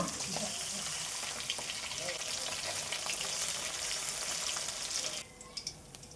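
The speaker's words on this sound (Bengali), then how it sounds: "একইভাবে আবার বাকি মাছগুলো আমি ভেজে নেব" Pabda fish frying in hot oil in a home kitchen, a steady dense sizzle that holds for about five seconds and then drops off suddenly, leaving a few faint clinks and quieter crackle.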